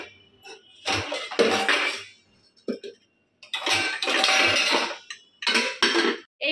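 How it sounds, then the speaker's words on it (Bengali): A large pressure cooker and pots are handled in a home kitchen at night, with repeated metallic clanks and clattering bursts separated by short pauses, close and fairly loud. "এই বড় প্রেসার কুকারটা দেবো"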